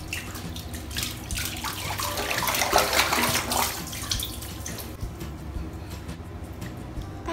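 A dog paddles in shallow bath water during a home bath, giving steady close splashing and sloshing that swells in the middle and then eases off, with no talking.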